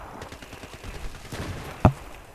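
AUG A3 rifle gunfire in Battlefield 3, a rattle of rapid shots underneath followed by one sharp, loud report standing out near the end.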